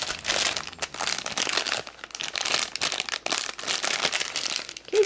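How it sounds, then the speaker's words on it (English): Crinkly plastic blind bag of a miniature toy being handled and opened, with continuous close, loud crackling and rustling bursts throughout and no talk. "So it looks like it comes in another blind bag inside."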